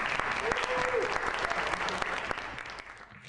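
Applause from a community college audience after a speaker shares remarks at an international fashion show, dense steady clapping that tapers off toward the end, with faint voices underneath.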